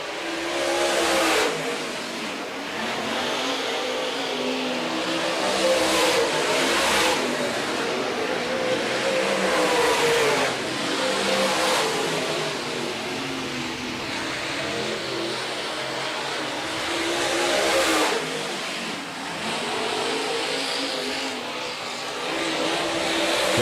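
Late model race cars roar around the Rapid Speedway oval during a heat race, engines revving loudly and continuously, swelling and fading as the pack passes near and away.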